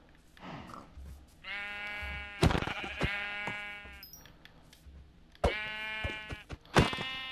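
White sheep in a video game bleat loudly several times, long harmonic baas separated by sharp clicks and thuds, with the bleats clustered near the start and end.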